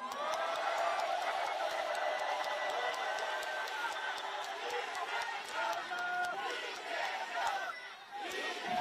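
Large crowd at a Democratic Party rally cheering and shouting with steady applause, a dense, continuous roar that stays loud throughout.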